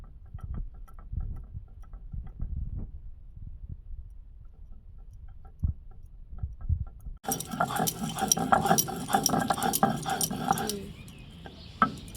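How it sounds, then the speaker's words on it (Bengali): Whole spices ground by hand into a fine paste for a catla fish-finger recipe, a steady scraping, knocking grind that starts abruptly partway through and carries on loud and close after a quieter stretch of low kitchen clatter. "মশলাটাকে মিহি করে একটু বেটে নেব।"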